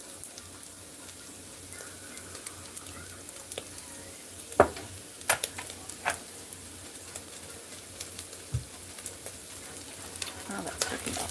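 Food frying in a pan over medium heat for biscuits and gravy: a steady, soft sizzle with occasional scrapes and taps of a utensil stirring, close and low in level, continuing without talk.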